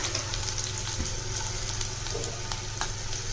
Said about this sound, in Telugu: తర్వాత కొద్దిగా కరివేపాకు వేసుకొని బాగా వేయించుకోవాలండి.